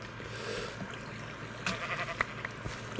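Sheep bleating in the Minecraft video game, with a couple of short bleats about a second apart over soft ambient game background and running water.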